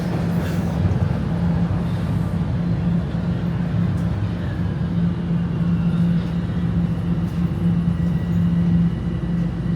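Steady low rumble of a Toronto subway train in motion, a continuous droning hum with faint rattles, no voices.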